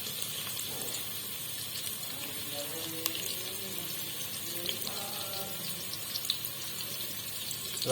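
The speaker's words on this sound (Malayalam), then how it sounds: "അതിൽ കുറച്ച് നെയ്യ് ഒഴിക്കാൻ പോവുകയാണ്" Amul ghee poured onto hot semolina in a pan gives a faint, steady sizzle and trickle alongside a few light clinks of utensils.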